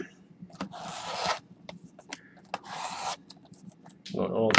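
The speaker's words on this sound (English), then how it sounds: "Going old school with some scissors here." Scissors cut open football trading card packs during a box break, giving several close, rasping cutting strokes and light clicks separated by brief pauses, with a voice and handling noise near the end.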